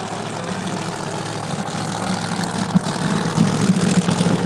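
Turbocharged Ford Mustang drag car at a Pro Extreme race, a low steady engine rumble that swells slightly toward the end, heard from a distance with crowd and track ambience.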